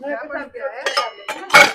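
Household dishes and utensils being gathered up clink and clatter in a few sharp bursts close by, following a brief stretch of voice.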